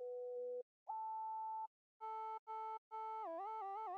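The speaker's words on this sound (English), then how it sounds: "I just added this analog sine. And what I did was I synced it so we're getting some harmonics" A synced analog sine synth plays a bright, buzzy tone, a few held notes with pauses between them, ending on a warbling, pitch-bending phrase rich in harmonics.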